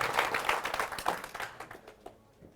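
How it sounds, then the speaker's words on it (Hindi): A crowd claps to welcome politician Abhay Singh Chautala of the INLD at an outdoor rally, a dense burst of applause that thins out and fades toward the end, with no talking. "तालियों के साथ स्वागत कीजिए।"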